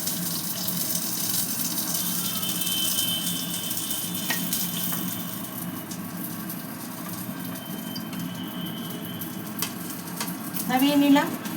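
Bottle gourd leaf fritters stuffed with pumpkin fry in oil, making a steady, dense sizzle with a low background rumble and a few faint clinks, rising slightly near the end.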